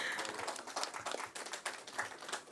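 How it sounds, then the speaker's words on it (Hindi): Crowd at a Jai Prakash Janta Dal foundation-day celebration applauds the team, scattered clapping bursts rising and falling, faint and somewhat distant throughout. "तो एक बार जोरदार तालियां पूरी टीम के लिए।"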